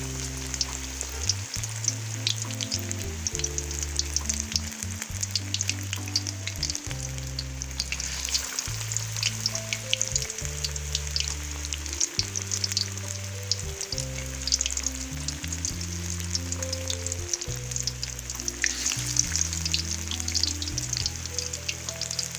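Fish sizzles and crackles steadily in hot oil for the whole stretch, a loud, dense frying hiss with small pops and no voices over it.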